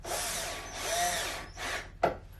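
A power drill bores a small pilot hole into a wall for a removable closet shelf, giving a few short whirring bursts close to the mic, then a brief sharp stop.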